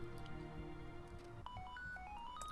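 A phone rings inside the Pokemon Academy Life video game demo, a short rising series of electronic chirps standing out over steady game background music, loud and close.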